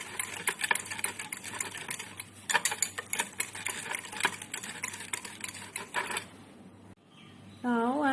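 Red velvet cake mixture being stirred with powdered sugar, with fast, rhythmic scraping and clicking of a utensil against the bowl for about seven seconds, then a brief pause and a faint tonal sound at the end.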